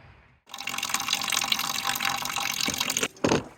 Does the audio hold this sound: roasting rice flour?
no